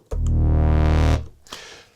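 A Minimoog Model D synthesizer holds a loud, buzzy, harmonically rich oscillator drone for about a second, then cuts off sharply, followed by faint room noise and a soft click.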